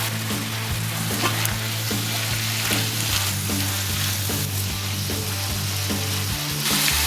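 Cooked ground meat for shepherd's pie fries in a pan, a loud, close, continuous sizzle and crackle with occasional stirring scrapes, under a low steady hum and no voices.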